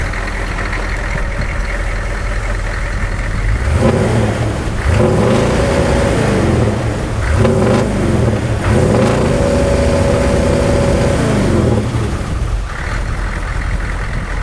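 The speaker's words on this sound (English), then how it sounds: "I'll give it a few revs." Close by, a 75 Series Toyota Landcruiser V8 idles, then is blipped through several rising and falling revs over about eight seconds before dropping back to a steady idle, with no speech.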